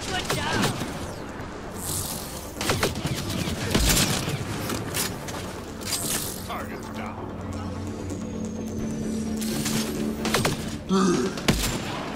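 Gunfire from Mass Effect: Andromeda comes as scattered shots and heavy thuds amid busy combat noise, with a low mechanical hum and someone talking over parts of it.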